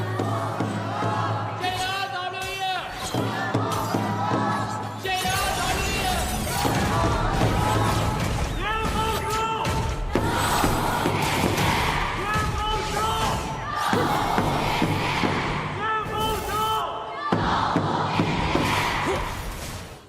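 The crowd at an Honor of Kings esports knockout match between WE and DYG roars and cheers continuously, loud and dense, with a clear surge near the start and bursts of in-game impacts.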